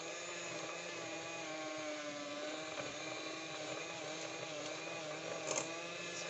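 A kitchen stand mixer motor set around level 3 or 4 runs with a steady, fairly quiet whir while gluten-free cupcake batter is prepared, holding an even drone throughout with no voices over it.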